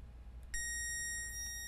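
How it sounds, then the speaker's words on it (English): A multimeter set to diode mode gives its continuity beep as the probes touch a pad connected to ground on an iPad Pro 10.5 board. It is a single sustained electronic tone that starts sharply about half a second in and holds steady. "And there's a beep, which means that this pad is connecting to ground"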